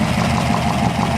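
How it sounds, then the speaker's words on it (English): A 1964 Ford F250 dump truck engine idling with an exhaust leak under the hood, a rough, rapid ticking and puffing chug close by, running evenly without pause. "You hear exhaust noise up under the hood like this."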